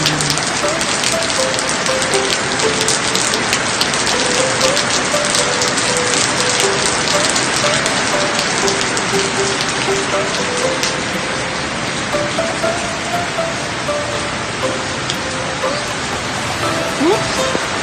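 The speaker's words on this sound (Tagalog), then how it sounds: "It's raining." Steady rain pours down outdoors in a vegetable garden during the rainy season, a dense continuous hiss of drops that stays loud and even throughout, with faint voices mixed in under it.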